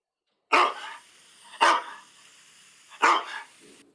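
Three sharp dog barks, evenly spaced about a second and a half apart, close and loud against silence.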